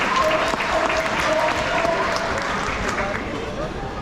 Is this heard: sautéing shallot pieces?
no